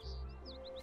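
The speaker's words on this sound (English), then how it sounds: "Oh, look! I see some birds!" Birds chirp in short, quick tweets over a steady low ambient hum in the Kingdom Hearts 3 video game, faint and fairly close.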